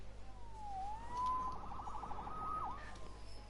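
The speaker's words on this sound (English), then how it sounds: "Saved by the siren" A police siren wails in a Spider-Man video game, a faint, distant rising-and-falling tone that sweeps up and down a few times over a low background hum.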